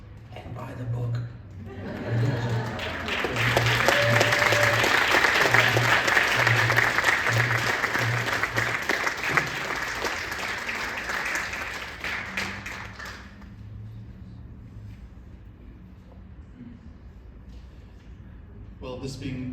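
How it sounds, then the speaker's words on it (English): An audience at a book launch claps in a long, dense round of applause that swells for about ten seconds and then tapers off, with a few voices and chuckles underneath. "Round of applause for Sarah Blum."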